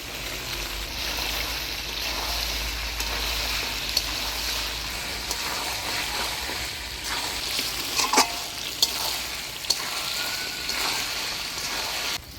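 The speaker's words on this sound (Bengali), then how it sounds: "এবার ভাজে রাখা আলু দিয়ে আর একটু কষিয়ে নিব।" Chicken with pre-fried potatoes being stir-fried in a pan, a steady close sizzle with scraping and stirring clatter throughout, a few sharper utensil knocks near the end, no talking.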